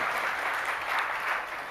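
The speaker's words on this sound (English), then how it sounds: "Big round of applause" A conference audience applauds steadily at a technology product talk, a dense, even wash of clapping held at a constant level throughout with no voices breaking through.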